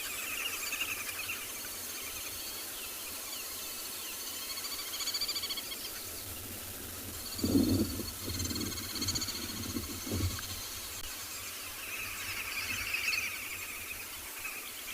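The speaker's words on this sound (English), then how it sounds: "Green hoopers, those sounds you can hear on the background." Chattering, squealing bird calls of green wood hoopoes in the background at sunrise on safari at Tswalu, rising in bursts over a steady hum, fairly faint and distant.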